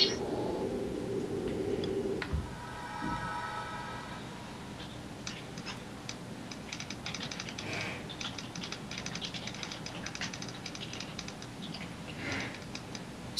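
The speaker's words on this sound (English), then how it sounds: "I got two pencils, and I'm making beats." Two pencils tapped as drumsticks on a table to make beats during a two-versus-two Magic 2014 card game, a quick irregular clatter of light ticks after a brief opening murmur, fairly quiet.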